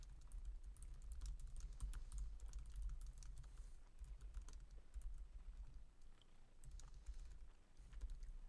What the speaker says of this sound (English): You're typing away over there.